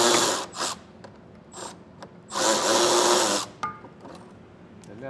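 A ratchet removing 10mm bolts from the wheel well of a 2024 BMW i during a trailer hitch install. Short, loud bursts of a whirring tool alternate with quieter pauses, with one longer run in the middle.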